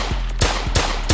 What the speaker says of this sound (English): Why this dude trying to shoot?